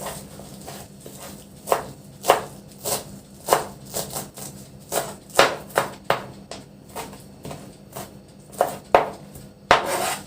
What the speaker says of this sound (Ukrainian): нарізаю зелень.